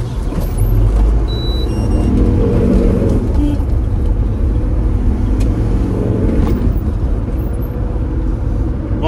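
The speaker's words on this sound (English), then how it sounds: "The bus has just blocked me in" A bus idling close by, a loud, steady low engine rumble with continuous road and traffic noise around it.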